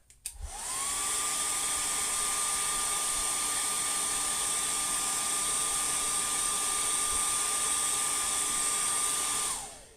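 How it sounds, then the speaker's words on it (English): A hair dryer blows steadily on a freshly painted fishing lure, a loud, constant whirring hiss with a high whine that starts abruptly, holds for about nine seconds and then cuts off. "I'm going to hair dry that right quick."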